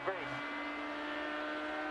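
IndyCar race cars accelerate as the field restarts, a dense steady engine drone with no break, heard under continuous race commentary.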